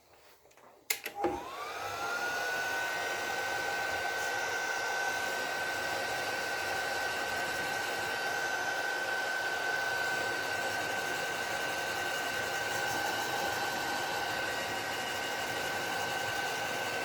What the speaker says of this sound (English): And you'll use a heat gun to shrink them.